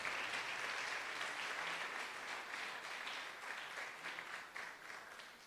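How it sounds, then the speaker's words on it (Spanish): Church congregation applauding during a sermon, a broad, even wash of many people clapping that holds steady throughout, faint and distant in level. "Den un aplauso a Jesús."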